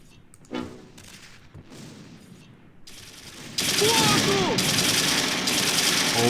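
StuG assault gun firing in the Close Combat 3 Russian Front war game, with a few sharp mechanical reports early, then a loud burst of rattling gunfire and clanking battle noise over the last few seconds.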